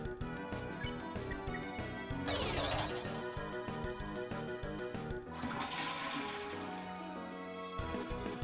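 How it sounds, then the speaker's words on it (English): Toilet flush sound effect in the video game Deltarune, a loud rushing whoosh that swells twice over background game music. "you got a toilet flush"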